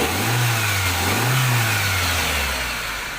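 A Toyota Soluna car engine, fixed after a relay swap for a no-start fault, gets two quick throttle blips from idle, rising and settling back, close and loud, before easing slightly at the end; nobody speaks.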